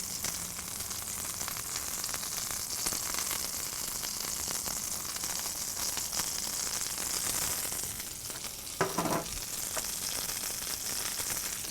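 A beef burger patty sizzles on a flat griddle with a broad, even hiss that holds steady throughout, marked by one short scrape near the end.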